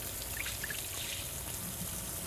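Water trickles steadily in a kitchen sink as sprouts are rinsed, a soft close splashing wash with faint droplet patters and no voices.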